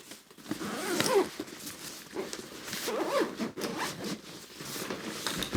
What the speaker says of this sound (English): Then I can zip it up.